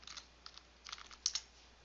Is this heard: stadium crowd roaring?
no